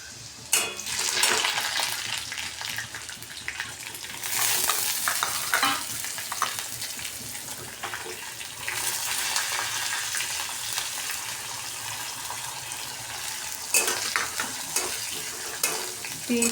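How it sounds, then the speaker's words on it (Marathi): Garlic sautéing in hot oil with green chilies and cumin for methi bhaji, a steady loud sizzle with scraping stirs and spatula clinks throughout, no voices. "तीन ते 4 मिनिट आपण मिरची सहित लसूण परतून घेऊ।"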